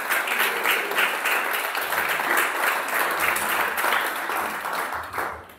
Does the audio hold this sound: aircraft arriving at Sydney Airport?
no